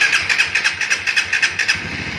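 A Suzuki GSX-S150 motorcycle engine runs close by in short, rapid pulsing bursts, loud over the brief stretch with no voices.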